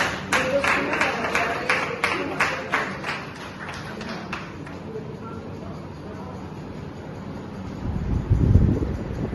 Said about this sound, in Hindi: तालियां बजती रहे तो अच्छा लगता है।